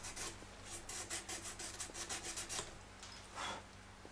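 Super fine grit abrasive rubs back and forth over a Telecaster guitar fret, making quick, rhythmic rasping strokes about twice per second, close and fairly quiet, with a steady low hum underneath.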